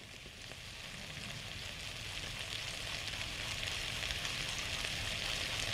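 Garlic and fresh ginger sizzle steadily in hot oil for a shrimp stir fry, a continuous close frying hiss that grows slightly louder with no voices over it.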